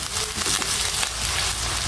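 Onion paste frying in a pan for catla fish curry gives a steady, dense, close sizzle that runs without break or talk.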